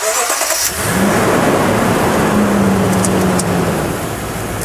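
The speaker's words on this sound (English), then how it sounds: "go ahead and start the car" A Toyota car engine cranks and catches about a second in, then settles into a steady, loud idle close by with a faint rise in revs, heard alone with no talk.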